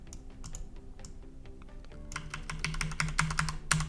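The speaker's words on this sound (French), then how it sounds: "Vous pouvez utiliser les flèches de votre clavier pour régler de façon précise la valeur." Computer keyboard keys tapped during a graphics card undervolt and overclock tutorial, a sparse run of clicks that turns into a denser, louder burst of rapid taps in the second half, close and alone with no talking.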